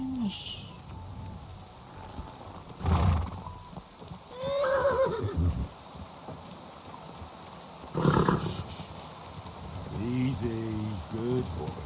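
A horse neighs and whinnies several times in Kingdom Come Deliverance II, with snorts and hoof clops between calls, fairly close over a quiet outdoor background.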